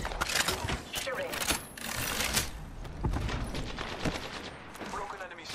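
Rapid bursts of automatic gunfire from a battle in Apex Legends, dense overlapping volleys that run nearly continuously and loud, with a voice talking over the shooting.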